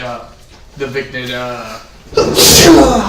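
A single sharp, loud sneeze bursts out near the end after some quiet talk around a tabletop Dungeons & Dragons game.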